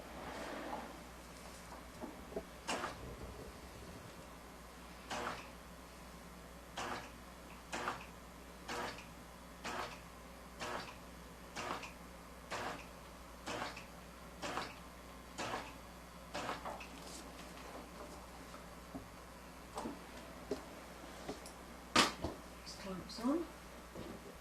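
A computerized pantograph quilting machine bastes down the sides of a quilt in manual mode, producing soft, evenly spaced clicks and taps in a steady rhythm over a quiet room hum.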